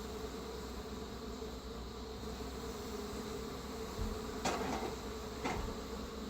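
Honey bees drone steadily around hive frames during the installation of a new queen. The soft, continuous buzzing is broken by a few faint knocks near the end, with no voices.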